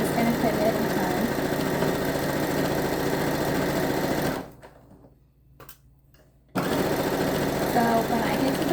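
A sewing machine stitching a baby blanket hums and whirs at a steady rapid pace, stops for about two seconds, then starts up again just as loud.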